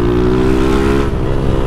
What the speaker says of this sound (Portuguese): Essa é a moto dele no GRS.